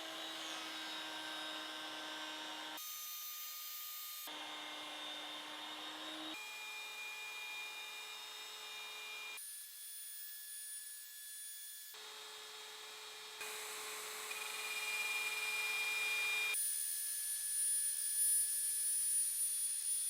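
Router cutting grooves into wooden laundry hamper legs, a series of high whining passes separated by short pauses, each cut a sustained loud tonal buzz with shifting pitch, no talking.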